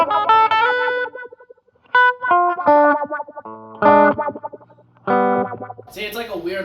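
A sped-up sweep echo on a Line 6 Spider IV 15W guitar amp makes short bursts of guitar notes and chords smear into fast wobbling, swooping echoes, loud and close.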